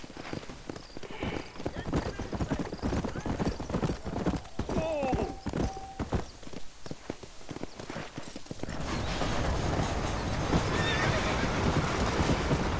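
Horse hooves clip-clopping in a steady gallop and a sharp whinny from a horse in the Red Dead Redemption video game, heard close and loud over a constant rushing backdrop, with a voice talking at times.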